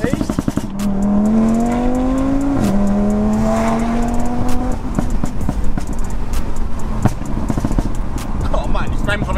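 An Audi TT RS fitted with an Armytrix downpipe exhaust revs hard, its engine note climbing in a rising sweep, dropping briefly, then climbing again, loud and close, while people talk excitedly throughout.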